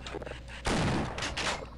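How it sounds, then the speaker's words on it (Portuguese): Quick bursts of shotgun fire in the video game Half-Life, a brief loud volley followed by a couple more shots, fairly close and punchy. "Vai dar altos tiros de 12 nesse bicho pra ele morrer."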